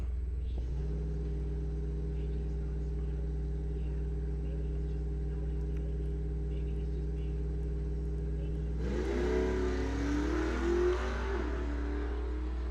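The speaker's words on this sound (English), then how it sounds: "Here comes Lyons in the Mustang, trying to catch Cassie in the Camaro, and Lyons gets it done" Drag racing cars, a Mustang and a Camaro in bracket racing at a dragway, sound from a distance as a steady low engine drone, which swells into a rougher rising roar near the end.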